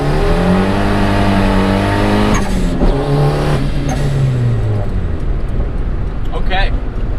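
A turbocharged Honda Accord engine revs hard and loud up close, its pitch climbing then abruptly cutting out as it hits a boost cut, followed by a dip and recovery while the engine keeps droning.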